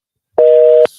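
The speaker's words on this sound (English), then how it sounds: "Phone's busy here." A phone busy signal sounds as a single loud, steady electronic tone lasting about half a second, starting and stopping abruptly, with near silence before it and a faint hiss after.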